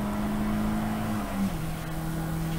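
A race car at Brands Hatch closes in from behind, its engine a steady droning whine that shifts pitch partway through as it gains ground, loud and continuous with no talk.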